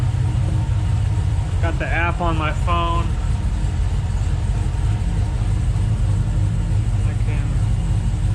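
A pickup truck engine idles with a steady low rumble throughout, with a person talking briefly over it near the start.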